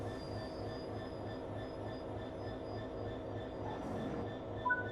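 A DRS Class 66 diesel locomotive idles in the Train Sim World 4 game on the Edinburgh to Glasgow route. Its low, steady engine rumble carries a faint rhythmic pulse, and a small clunk sounds near the end.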